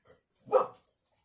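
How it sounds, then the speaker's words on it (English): A dog named Nala gives a single short bark, close and moderately loud, with a quieter yip just after it and a brief soft sound before it. "she wasn't barking at Phil."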